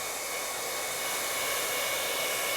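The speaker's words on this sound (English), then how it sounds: "put my blower on, and I'm going to dry up some of this paint" A handheld blower drying paint on a painting gives a steady, even rushing whoosh of air, constant and fairly close, with no voices.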